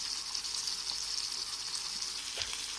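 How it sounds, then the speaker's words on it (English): Chicken pieces sizzling in gravy in a pan, a steady close frying hiss with light bubbling and an occasional stir, no talking. "let's cook these pieces with the gravy for a few seconds"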